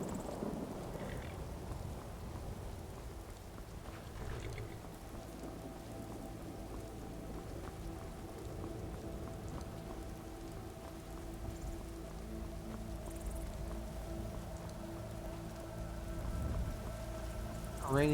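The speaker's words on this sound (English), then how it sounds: "Rainy day today." Rain and thunder in Skyrim: a steady wash of rainfall with low rumbling underneath, continuous and moderately quiet throughout, swelling slightly at the end.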